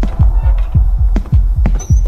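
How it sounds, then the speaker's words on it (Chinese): A heavy, low heartbeat thumps in a steady rapid rhythm in a horror video game as a clown approaches, loud and close over a droning hum. "心跳加重，小丑过来"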